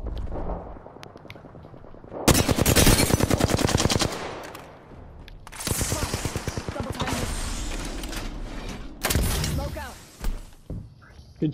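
Flatline assault rifle bursts in Apex Legends: loud, rapid automatic fire in several long sustained volleys separated by short pauses, with a quieter stretch at the start and a final short burst.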